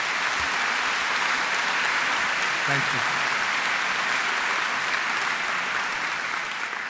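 An audience applauds at an honorary degree presentation ceremony, dense steady clapping filling the hall from start to finish while someone briefly speaks over it.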